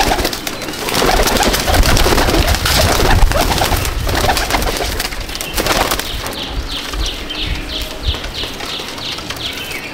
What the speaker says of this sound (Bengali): এগুলো সব নর পায়রা।